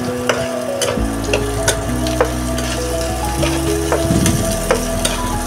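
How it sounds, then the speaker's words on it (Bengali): Onions fry in a pan on a raised flame as they are browned for an egg bhuna, giving a steady sizzle with occasional stirring scrapes and clicks over a music bed. "পেঁয়াজগুলোকে আমি এখন ব্রাউন কালার করে ভেজে নিব।"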